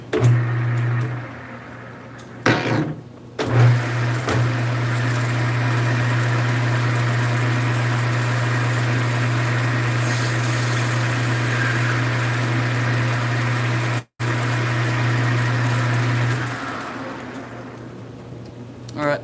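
A metal lathe faces off a metal guitar knob, its steady motor hum and cutting drone running close and continuous for most of the stretch, with brief breaks near the start and a short dropout before winding down.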